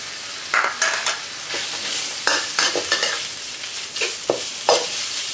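Beef being stir-fried in a hot wok with chili, ahead of dried chilies, for a spicy Thai basil dish: steady sizzling with repeated scraping and tossing strokes of the spatula, close and fairly loud, with no talk.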